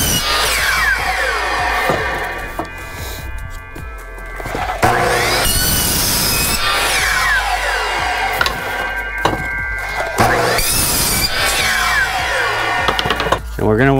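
A power saw cuts scrap pieces of laminate flooring in several loud, close bursts, with brief pauses between the cuts and a rough, rasping whine as the blade runs through each board.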